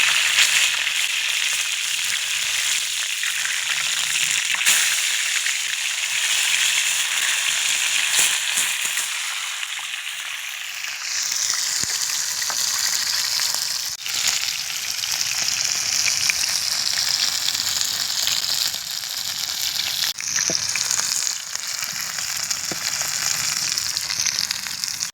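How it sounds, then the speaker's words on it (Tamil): Murrel fish frying in hot oil, a loud crackling sizzle that runs close and unbroken, swelling and shifting in texture with occasional sharp pops and spatters. "ரெண்டு பக்கம் அருமையாக பொரிஞ்சிச்சு மீன்"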